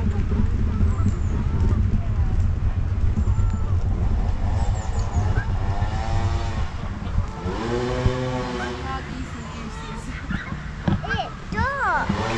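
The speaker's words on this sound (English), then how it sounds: "Yeah, it's a goose." Geese honk repeatedly at an outdoor boating lake, a series of nasal calls, some near and loud, heard over steady outdoor background noise with people talking nearby.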